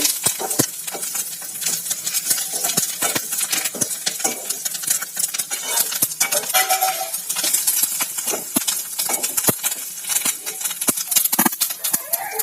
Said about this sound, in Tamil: கருவேப்பிலை நல்லா எண்ணெயில பொரியுது.